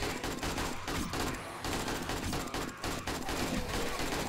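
Rapid video game gunfire rattles in dense, continuous bursts, loud and close, with only brief gaps between volleys and no talking.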